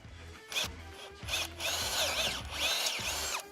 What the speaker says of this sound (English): Bigger drill bit this time.